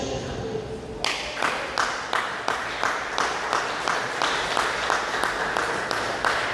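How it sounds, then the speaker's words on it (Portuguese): A church congregation breaks into rhythmic clapping, a sudden burst of unison beats in a steady, regular pulse that continues to the end, fairly loud and close. "dê uma salva de palmas bem alegre para Jesus"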